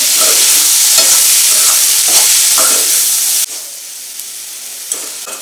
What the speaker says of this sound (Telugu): ఇప్పుడు ఇవన్నీ బాగా కలిసేటట్టు ఒకసారి కలుపుకోవాలి